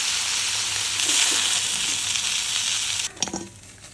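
Pieces of catla fish sizzle in hot oil in a pan: a steady, loud frying hiss that breaks near the end into a few clattering stirring or turning sounds before it quiets.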